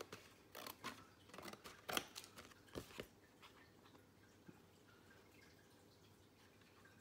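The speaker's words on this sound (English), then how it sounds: "you get the scissors and just trim that off." Several quick, crisp snips of scissors trimming a thin crinkly cellophane bag, clustered together at first, then quiet.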